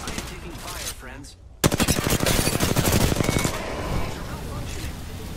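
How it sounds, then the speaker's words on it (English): Rapid automatic gunfire from enemies in a video game breaks out suddenly, a dense, close burst of rattling shots lasting several seconds before easing into softer firing, after a muffled stretch with game sounds. "I am taking fire, friends."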